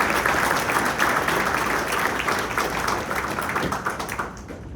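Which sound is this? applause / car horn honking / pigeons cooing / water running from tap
applause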